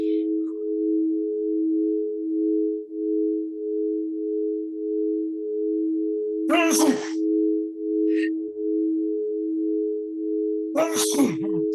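Two sharp sneeze bursts, a few seconds apart, break over a constant droning electronic tone in an otherwise quiet indoor setting.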